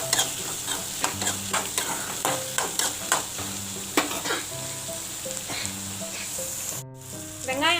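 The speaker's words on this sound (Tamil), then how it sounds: "மீடியம் சைஸ் 6 வெங்காயத்தை போட்டுங்க. நல்லா வெங்காயத்தை வதக்கிக்கோங்க." Six medium onions sautéing in a pan for onion chutney, a steady close sizzle broken by repeated scraping stirs of a spoon against the pan, no talking.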